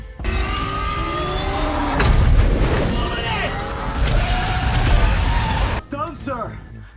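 Loud, dense cinematic blasts and crashes with booming impacts as a giant robot fires two plasma cannon shots into a kaiju monster, followed by a short burst of screeching, roaring sounds at the end.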